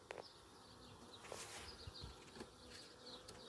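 A swarm of honey bees buzzes in a faint, steady drone, with a few louder individual bees passing close by, no talk.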